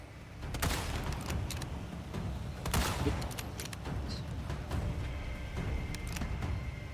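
Gunfire in the video game Resident Evil 4 Remake, a rapid fusillade of sharp cracks with a heavier cluster of shots near the middle over a dense, continuous background.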